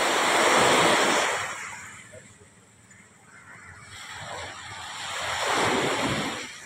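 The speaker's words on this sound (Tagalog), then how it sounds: "Maganda yung dagat talaga." Sea waves breaking at a river mouth beach, two loud surging washes rising and falling slowly, with a steady breeze between them.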